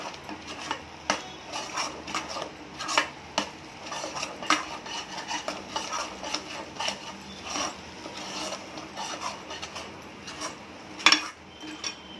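Masala sautéed and stirred in a kadhai for a fried brinjal dish, with a steady run of close metal spoon scrapes and clinks against the pan over a low sizzle.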